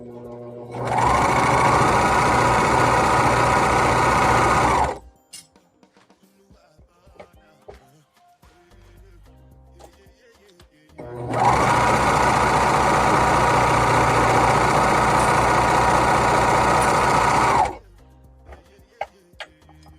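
A sewing machine that is acting up runs in two loud, steady bursts of several seconds each while a cropped cardigan is sewn, a close, buzzing motor whir with quiet handling clicks and pauses in between.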